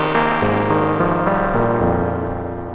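A sustained synth tone from Ableton's Drift synthesizer, its envelope modulating at audio rate, gives a buzzy, harmonically rich sound that steps through several pitches, loud and alone.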